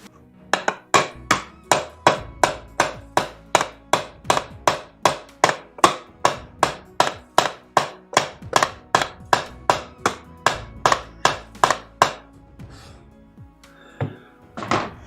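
Skylight trim is hammered into place indoors with a steady series of about thirty sharp, evenly spaced hammer strikes, loud and close, continuing for over twelve seconds before stopping.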